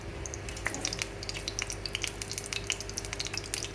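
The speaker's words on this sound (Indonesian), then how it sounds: "Sambil goreng sambil masukin beras." Rice is stirred in a frying pan with garlic and shallots, a constant crackling sizzle broken by scraping and clinking utensil strokes, close and moderately loud, with no talking.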